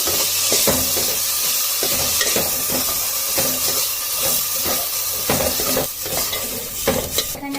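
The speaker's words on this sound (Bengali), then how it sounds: "চালটা আমি আগে থেকে ধুয়ে রেখে দিয়েছিলাম চালটা চালটা নেড়ে নেবো" Gobindobhog rice dry-roasting in a pot for payesh, stirred steadily with close, repeated scraping and light clatter over a soft continuous hiss, with no voices.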